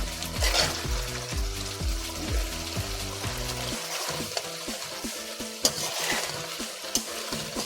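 Mushrooms cook in a pan, giving a steady low sizzle and bubbling with a few stirring scrapes and clinks. Tonal music plays over it for roughly the first four seconds.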